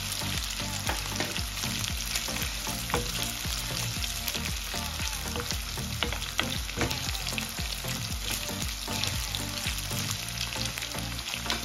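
Kidney pieces frying in a pan for a potato and kidney pie, a steady dense sizzle running loud and close throughout, with scattered clicks and stirring scrapes and no talking.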